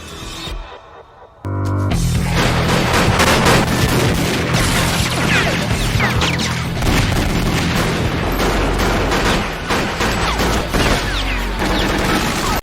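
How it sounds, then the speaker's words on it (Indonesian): Fierce gunfight in an action film, dense rapid gunfire and booming impacts after a brief quieter opening, loud and continuous with crashes layered throughout. "memicu baku tembak sengit antara kedua pihak"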